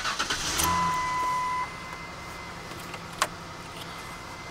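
Mazda B4000 pickup truck with a failing alternator, engine cranking briefly with a whine and then settling into a low, steady idle rumble, close by, with a faint click partway through.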